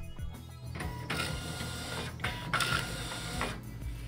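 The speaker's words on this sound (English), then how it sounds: "Confirm file transfer by printing." A Zebra ZT411 industrial label printer runs a print job, giving off a busy mechanical whir with repeated clicks and bursts of feed motor noise, close and fairly quiet.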